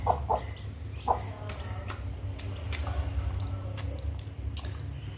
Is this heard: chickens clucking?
yes